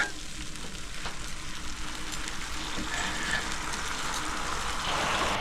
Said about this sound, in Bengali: ঝোলটা ফুটে এসছে, আমি মাছগুলো দিয়ে দিচ্ছি।